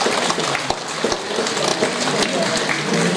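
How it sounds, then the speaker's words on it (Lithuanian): An audience claps for a performer at the Tamburinas 2023 stage event, a dense, loud, continuous wash of applause with scattered sharper claps, and a little talk mixed in. "aplodismentai jam."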